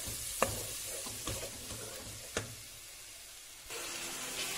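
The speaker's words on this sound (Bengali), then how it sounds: "এগুলোকে দিয়ে এখন ভালো করে মিক্সড করে নিব।" Ginger and garlic paste stirred in a hot pan, a quiet steady sizzle broken by a few sharp scrapes of the spoon, with no voices.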